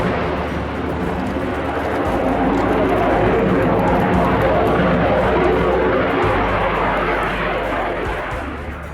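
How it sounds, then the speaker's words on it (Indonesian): Yak-130 two-seat subsonic jet trainer and light combat aircraft flying, a loud steady broadband jet roar that swells slightly and fades at the end. "Yak-130 adalah jet latih dan pesawat tempur ringan subsonik 2 kursi"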